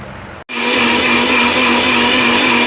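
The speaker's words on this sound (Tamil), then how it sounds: "இதை வந்து மிக்சி ஜாரில் மாற்றி அரைச்சிக்கலாம்" A kitchen mixer grinder blends pomegranate seeds with milk. It starts abruptly with a loud, steady high-pitched whirring hum that runs on unbroken and close.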